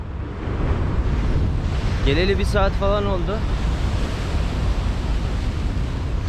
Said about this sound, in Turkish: Dalgalar çok iyi ya.